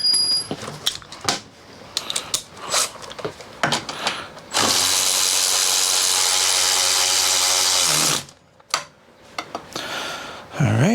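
Metal taps and knocks ring out on a stuck socket on an Evo Sportster chopper engine, then a loud steady mechanical whir runs for several seconds before more scattered knocks.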